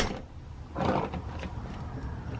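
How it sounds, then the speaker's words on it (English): A feral cat hisses once in a short, breathy burst near the start of the clip. The sound stands alone over faint outdoor background noise. "See? He's hissing."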